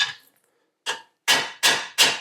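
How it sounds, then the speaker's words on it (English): Hammer blows on the edge of a steel front fender for a Honda Rebel 250 motorcycle: one lighter tap, then three loud, sharp metallic strikes in steady rhythm, close up, with no talking. "So let me get the hammer in"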